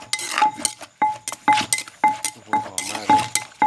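A pestle pounds crab and fermented fish papaya salad in a mortar, striking in a steady rhythm of sharp knocks with clinking, about two hits per second, close and clear with no talk.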